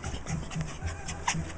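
Mixed-breed dog panting in quick rhythmic breaths with a soft whine near the end, close by and moderately quiet.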